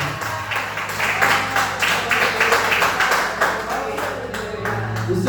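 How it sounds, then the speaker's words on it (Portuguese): A church congregation applauds during a Sunday service, sustained clapping from many hands that swells and holds for several seconds over a low background hum. "Dê uma salva de palmas para Jesus."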